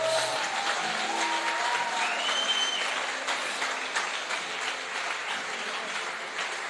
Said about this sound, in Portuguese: Uma salva de palmas, igreja.